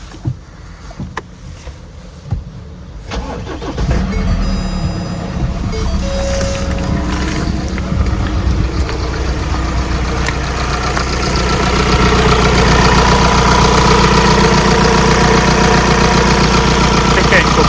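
A restyled fifth-generation 2-litre Ford Mondeo cranks after a few clicks and knocks, starts, then settles into a steady close idle that grows slightly louder toward the end.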